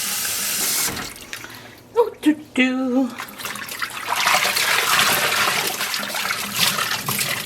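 Tap water runs steadily from a faucet as a broadband hiss for most of the clip, with a short spoken exclamation and a few brief sounds just before the flow grows louder.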